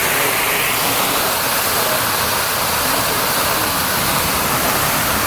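A powerful waterfall in Kohistan, Pakistan roars as a loud, dense, unbroken wash of crashing water, close and constant with no voices over it.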